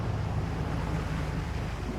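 Steady ocean chop and wind waves slap against a heavy sailboat where the Strait of Juan de Fuca meets the ocean, a continuous loud wash of water and wind noise without voices.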